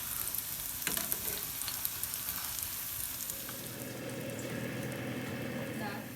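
A bread slice for chocolate French toast frying in a pan over medium heat, a continuous faint hiss that swells as the slice is turned, with a few clicks.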